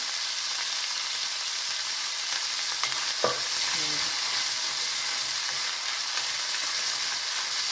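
Constant crackling sizzle of dried red chilies frying in hot oil, steady throughout with a brief stir or clink partway through.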